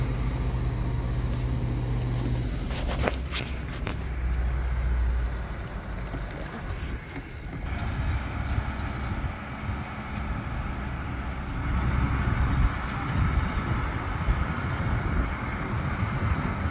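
A truck hauls a load of corn silage onto a farm site, its engine rumbling steadily and fairly loud throughout, with no speech.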